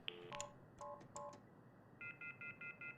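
Telephone keypad tones beep in quick single presses, followed by a steady run of evenly spaced repeating tones, all from inside The Mortuary Assistant horror game.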